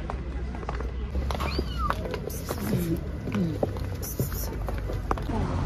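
A cat meows a few times over busy background noise and rustling, the calls short and fairly close.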